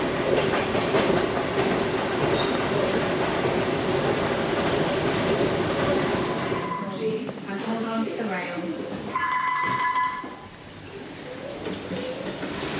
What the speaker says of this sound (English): So we're on the shuttle to the North